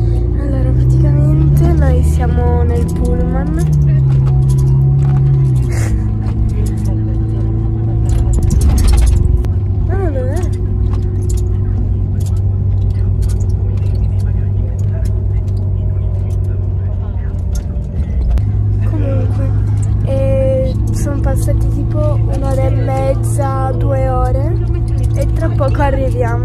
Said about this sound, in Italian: Siamo nel pullman.